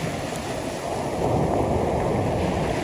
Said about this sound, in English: the tide's hitting the walls, rolling back, and then the waves coming back in